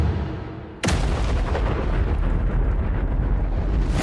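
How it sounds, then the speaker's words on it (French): A bomb dropped and detonated during a countdown stunt, heard as one sudden huge blast after a short lull, then a sustained loud roar and rumble that fills the rest of the clip without fading. "3, 2, 1, lâchez la bombe!"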